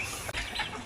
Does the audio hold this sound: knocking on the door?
no